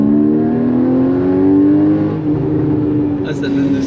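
Porsche Cayman engine revving hard with a rising, sustained roar close by, its pitch climbing steadily, while voices speak over it throughout.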